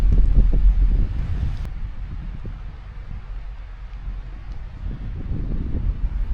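Wind buffets the microphone outdoors on a forest walk, a steady low rumbling roar with a heavier gust at the start, no voices.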